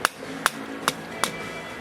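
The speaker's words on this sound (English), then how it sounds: "So just hammer it forward towards the sight" Four sharp metallic hammer taps at a steady rhythm, close and distinct, with quiet between strikes, as an M1 carbine's trigger assembly is driven forward along its dovetail.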